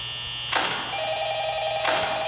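An old-style telephone rings in the horror video game Five Nights at Freddy's, two short bright trilling rings about a second and a half apart over a steady electronic hum.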